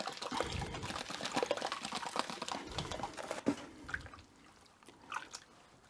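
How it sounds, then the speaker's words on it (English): About half a cup of baking soda goes into water to neutralize vinegar left on hand plane parts, giving a close, soft granular pour and splash that fades to quieter dribbles near the end. "I'm going to be adding about 1/2 cup of bicarb soda or baking soda"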